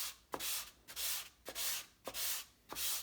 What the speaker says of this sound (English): When you're sanding, just sand with the grain.